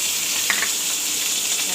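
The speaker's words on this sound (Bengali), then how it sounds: "মাছটা ভালো করে ভেজে নিয়ে আসছে" Fish frying in a pan on a stove gives a steady, close sizzle that runs without a break, with a faint clink partway through and no voices.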